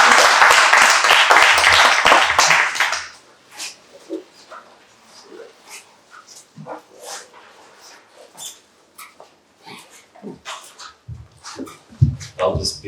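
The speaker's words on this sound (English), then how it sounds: "Can I just ask for a round of applause," Applause for three speakers at a panel event on populism and nationalism: a dense burst of clapping fills the first three seconds, then fades into scattered claps and room noise.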